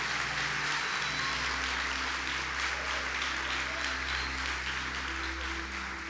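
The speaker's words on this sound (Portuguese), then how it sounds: "Se você crê, por favor, celebra Jesus com um forte aplauso" A church congregation applauds in a steady, sustained wash of clapping, with a low hum or music bed running beneath throughout.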